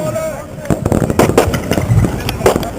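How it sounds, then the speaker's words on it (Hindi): Fireworks crackle and pop in quick irregular bursts at an outdoor memorial cricket tournament. Someone talks over the loud, close bangs. "और देखिए आतिशबाजी, बहुत ही बढ़िया नजारा यहाँ पर, आतिशबाजी यहाँ पर हो रही है।"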